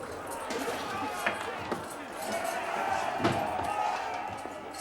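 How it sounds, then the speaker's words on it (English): Street crowd commotion before a hanging: a murmuring throng with scattered thumps and bangs, rising in busy waves, with voices mixed in. "What's all that commotion?"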